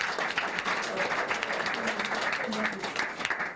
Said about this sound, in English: Make una clap for Potopoto